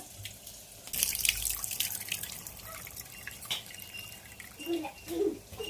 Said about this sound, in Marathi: दोन पाण्यानं ते चांगले धुवून घ्यायचं